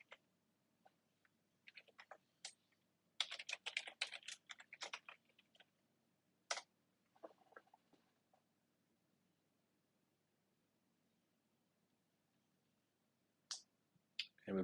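An administrator password is typed on a computer keyboard during a Windows Server 2022 install: short bursts of close, crisp key clicks separated by quiet pauses, with a few isolated taps at the end.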